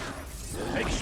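A sharp magical blast from the Expulso spell in Hogwarts Legacy bursts out, a dense one-second whoosh and crash of explosive energy, loud and close.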